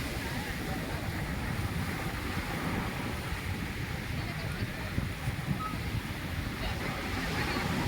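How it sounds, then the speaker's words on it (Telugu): Surf rolling in at Puri beach, a steady broadband wash of sea waves with wind noise across the whole stretch, continuous and fairly close, no distinct voices standing out. "ఇప్పుడు పూరీ బీచ్ చూస్తున్నారు."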